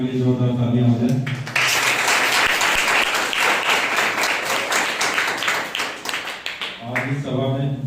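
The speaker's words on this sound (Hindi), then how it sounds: "आइए उस परमेश्वर की महिमा के लिए जोरदार तालियां हो जाए।" A church congregation at a Sunday service breaks into loud, sustained applause lasting several seconds, with speech before and after the clapping.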